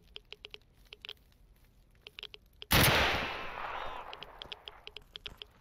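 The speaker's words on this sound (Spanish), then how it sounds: "Es bueno pegarle con la escopeta a estos" A shotgun firing buckshot in the game STALKER: Anomaly lets off one loud, sharp blast with a long fading tail, set among rapid light ticking and clicking.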